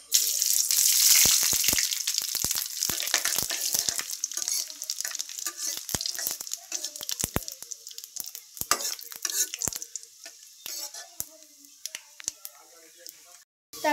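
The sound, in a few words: five-spice and dried chilli frying in oil in a wok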